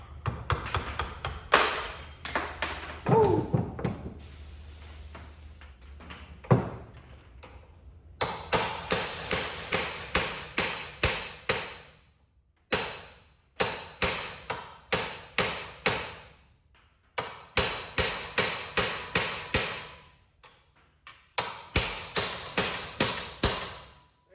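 Repeated metal hammer strikes on a drilled-out part of a pure stock race car ring out in quick, rhythmic volleys of sharp taps, separated by brief pauses, close and loud after a quieter opening.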